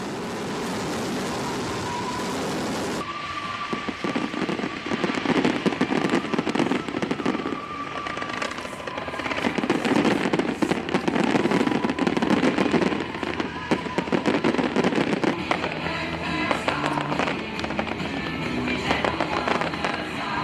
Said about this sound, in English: the spectacular fireworks marked the end of the Paris Games